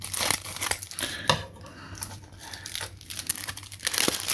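Scissors snipping and crinkling through stiff plastic packaging up close, with irregular crackly bursts and short pauses.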